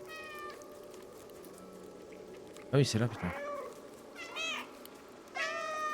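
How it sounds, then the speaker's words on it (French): A cat meows repeatedly in the video game Stray, several short rising calls from a gang of cats, with someone speaking French over the middle and soft game ambience underneath. "Appuyez sur F pour miauler."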